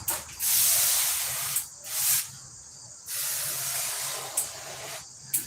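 Clear finish being sprayed in coats, with several bursts of loud hissing spray separated by short pauses and a faint low hum underneath.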